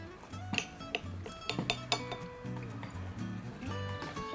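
A metal fork clinks and taps against a plate while cutting through a soft, jiggly baked cheesecake, giving a string of light, close scrapes and clicks at an uneven pace.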